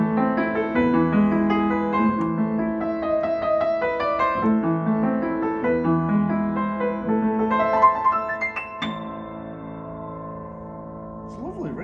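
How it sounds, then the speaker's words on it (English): A Marshall & Rose compact upright acoustic piano played continuously, with rich sustained chords and a fairly deep, ringing tone, close and fairly loud, no talking. "Now, it's got a surprisingly deeper tone than I thought it was going to have, actually, for the size of the piano"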